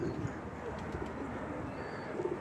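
Pigeon calls in a low, soft cooing murmur over steady background noise during a racing-pigeon chase outdoors, with faint chirps and possible distant talk.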